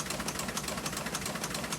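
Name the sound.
historic printing press at Vineyard Gazette printing the newspaper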